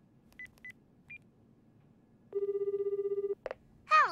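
A house telephone is dialed with a few short keypad beeps, then a steady ringback tone buzzes for about a second before a brief chirp and a ringing burst at the end.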